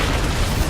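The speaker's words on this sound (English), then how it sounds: "This is just explosions and blood and everything." Explosions rumble through a StarCraft II battle between Zerg infestors, corruptors and broodlords and Terran Vikings, tanks and marines, one dense loud continuous burst of booming noise.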